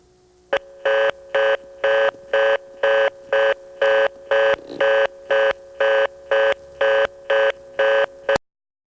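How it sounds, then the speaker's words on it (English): Ringing tone on a 1977 exchange line served by an ITT Pentaconta crossbar switch in North Carolina: about fifteen evenly spaced, loud, buzzy tone bursts in a fast, steady cadence, heard alone, then a sudden stop. "It has a really cool sounding ringtone."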